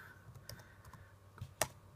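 Typing on a computer keyboard, a handful of scattered, quiet key clicks with one sharper, louder keystroke near the end, heard alone in a quiet room.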